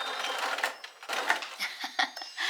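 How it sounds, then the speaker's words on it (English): A sewing machine stitches down the edge of fabric for homemade bloomers, a steady close whirring with quick rhythmic ticks and small clicks over about two seconds. "That's where I'm going to sew it down"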